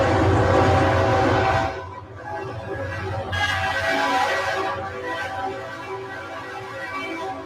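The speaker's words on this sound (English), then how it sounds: "Watch and listen closely as a driver pulls onto the tracks as that train approaches." A train sounds its loud, sustained horn as it bears down on a car stuck on the tracks, with blasts that break briefly and then resume under heavy rumbling.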